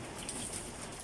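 Rain falls non-stop, a faint, even hiss of steady downpour with no breaks.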